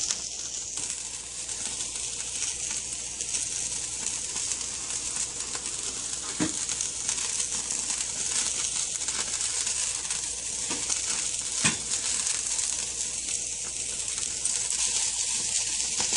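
Soft, continuous sizzling hiss of deodeok root grilling on a wire grill over medium heat, with occasional faint pops and crackles, steady and close.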